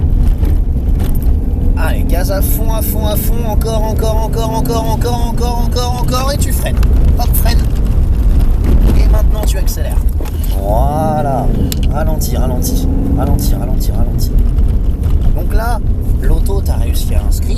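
A car on a driving course runs with steady engine roar throughout, climbing under full throttle, while an instructor talks over it almost continuously.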